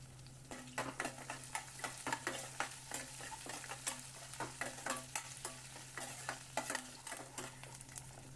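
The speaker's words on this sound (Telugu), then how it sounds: "పోపు ఇలా బ్రౌన్ కలర్లోకి వచ్చే వరకు వేయించాలి." A tempering of chana dal, green chillies, onion and curry leaves fries in a pan, giving a soft continuous sizzle under repeated rhythmic scrapes and clicks of a stirring spoon, with a steady low hum behind.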